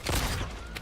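Mortal Kombat 1 gunshot attack during a tournament match: a dense burst of rapid gunfire blasts over game effects for under a second.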